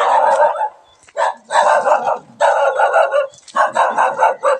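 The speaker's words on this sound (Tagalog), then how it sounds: "May aso na naman." A dog barks close by in four rapid bursts of sharp, repeated yips and woofs, separated by brief pauses.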